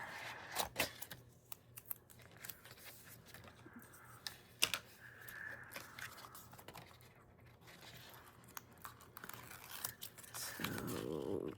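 Tape liner is peeled away in small, close, quiet crackles and ticks, with scattered crafting taps and scrapes around it.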